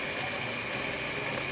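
Canned tuna goes into a cooking pan while fish and glass noodles are being made, giving a steady wet pouring and sizzling hiss, close and continuous, with no talking.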